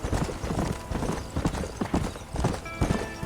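Horse hooves gallop in the Red Dead Redemption video game, a fast, loud, steady clip-clop rhythm close up that fills the whole stretch, with no voices.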